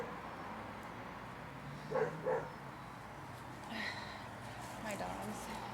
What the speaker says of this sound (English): my dogs love to bark